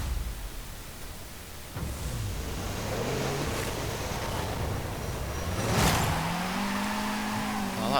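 A Porsche's engine in Forza Horizon 5, a low rumble that climbs in pitch twice as it revs up, over steady road and wind noise, close and continuous.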